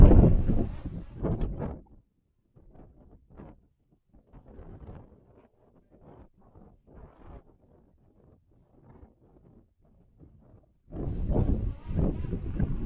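Strong wind buffets a DJI Mini 3 Pro drone. Loud, rough gusts of wind noise at the start and end surround a long, quieter stretch of faint, intermittent rustling.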